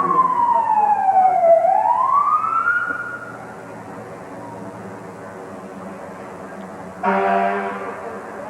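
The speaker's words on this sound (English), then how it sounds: "there you can see the truck showing off its lights and hear the sirens" A KME Chevy pumper fire engine's siren wails and sweeps up and down during a Christmas parade, then fades, followed by a short blast of a deep air horn at moderate distance.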